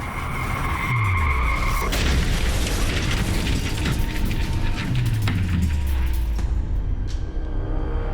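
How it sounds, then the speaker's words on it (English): Staged car crash effect for a head-on collision involving a Porsche Spyder: loud tire skids and squeals, then heavy impact booms and crunching debris, with engine sounds sweeping past before everything fades. "he lost control and the two cars basically hit head on."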